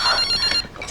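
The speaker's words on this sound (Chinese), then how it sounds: "接个电话" A telephone rings with a bright, electronic trilling tone, one short burst heard up close and alone in a home kitchen.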